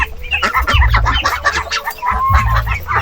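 Heritage chickens on a farm cluck in quick, close bursts, several soft calls over a few seconds with low background noise.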